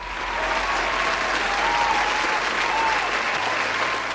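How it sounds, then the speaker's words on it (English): Dense, continuous audience applause that stays loud and even throughout, a wash of many hands clapping at once with faint crowd noise. "Let's give him a round of applause."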